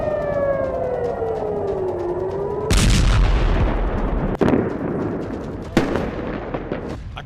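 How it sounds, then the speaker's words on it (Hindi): A Hezbollah rocket attack on Tel Aviv, Israel: a descending siren wail gives way to loud, rumbling explosions and sharp cracking blasts, with several distinct impacts in quick succession. "हिजबुल्लाह ने इजराइल को अपनी रॉकेट फोर्स से दहला दिया है।"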